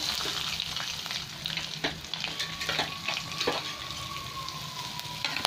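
Black cumin seeds and green chillies frying in oil left over from frying fish, a continuous close crackling sizzle with a few scattered pops and light stirring, no voices.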